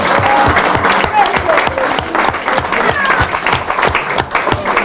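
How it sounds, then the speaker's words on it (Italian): Residents and visitors at a care home's end-of-year gathering give the staff and president a loud round of applause, thick rapid claps sustained throughout, with voices mixed in. "alla Presidente, grande applauso"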